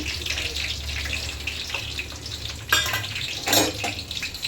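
Curry leaves and garlic sizzle steadily in hot oil for a spicy puffed-rice snack, a close, continuous crackle with two sharper bursts of spattering near the end.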